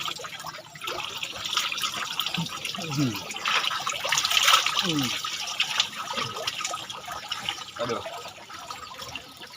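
Clear, fresh water flows steadily in a remote Sundanese village in West Java, a continuous close splashing and trickling that runs throughout while a person speaks over it.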